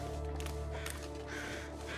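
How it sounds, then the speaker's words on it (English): Crows caw in the survival video game The Long Dark, harsh calls layered over a dense, steady in-game ambience with a low hum, moderately loud and without talk. "Okay, crows are circling over here."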